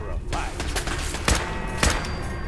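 Two sharp gunshots from Fallout 4 crack out about half a second apart over steady game ambience, with a quieter shot or two earlier.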